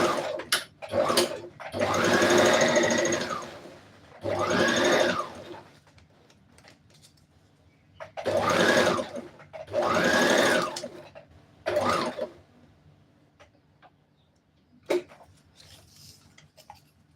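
A sewing machine stitches around the upper part of a shirt dress in several whirring runs of a second or two each, separated by quiet pauses and small handling clicks, heard close with no speech.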